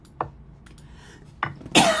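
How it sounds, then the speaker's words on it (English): A few short coughs ring out in a quiet room during a chess puzzle session: a light one early, another about a second later, and a louder, harsher burst at the end. "I'm not going to count the coughs."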